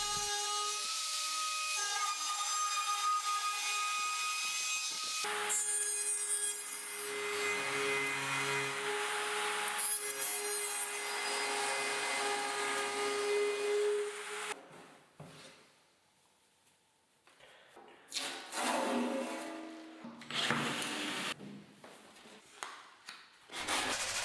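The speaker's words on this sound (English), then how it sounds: "Since oak wood is quite hard, a more powerful router would be ideal, but little by little, making a few shallow runs," Handheld router cutting hard oak in shallow passes for a kitchen countertop, a steady high-pitched grinding whine that runs continuously, dips briefly, then resumes in rougher surges, close and loud with no talking.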